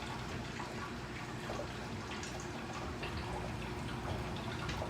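Cream ale beer pours from a bottle into a glass, a steady close liquid gurgle and splash that runs without a break.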